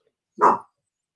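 A single short dog bark, one sharp woof, sounds close and alone against silence.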